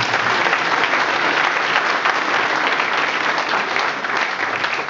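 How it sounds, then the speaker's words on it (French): A crowd applauds at a New Year's wishes gathering at a town hall, the clapping dense, steady and loud for the whole stretch, with no break and no voice over it. "On peut l'applaudir, bien sûr."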